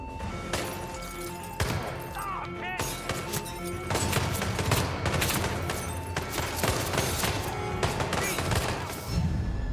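Gunfire at a shooting range in the Hitman: Absolution video game: rapid, sharp volleys of shots crack and clatter almost continuously, loud and close, with impacts and debris crashes between bursts.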